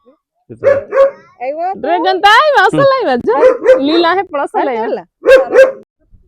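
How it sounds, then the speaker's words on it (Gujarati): A dog barks, yips and whines close by in a rapid, excited series of loud calls with brief pauses between bursts. "અમારો કૂતરો હે"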